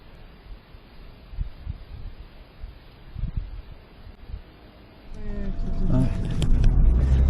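A car drives off toward a cash point in Lincolnshire: quiet outdoor rustle at first, then an engine swells loud and close over the last two seconds.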